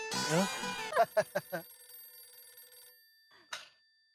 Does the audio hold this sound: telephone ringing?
yes